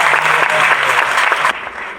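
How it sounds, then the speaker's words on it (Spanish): Loud audience applause at a film preview screening and colloquium in a university faculty hall, dense steady clapping that cuts off sharply partway through, leaving a quieter room. "Un fuerte aplauso para Isabel."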